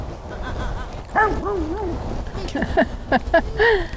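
A young puppy yips, whimpers and gives short high barks in a quick uneven series, close and clear, with sliding whiny tones between the sharper barks.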